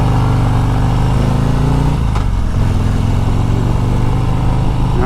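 A Harley-Davidson Road Glide CVO motorcycle engine rumbles loud and close, its deep exhaust note rising as the rider accelerates through a gear change on a demo ride, with wind and road noise steady throughout.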